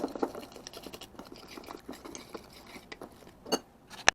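A whisk stirs a marinade mix for mojito lime chicken in a bowl, giving quiet, quick irregular taps, scrapes and liquid sloshing, with a couple of sharper clinks near the end and no talking.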